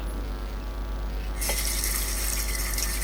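Tap water running into a sink to flush a clogged drain, first a low steady trickle and then a louder, full rushing stream that continues without a break.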